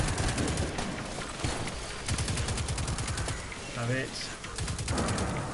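Rapid automatic gunfire shoots at Hive enemies in Destiny 2, a fast chattering stream of shots with brief gaps, while a voice speaks briefly.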